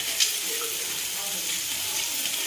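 Raw sprouted moth beans hitting a pan and frying, a continuous close hiss and sizzle at steady loudness with faint crackles throughout.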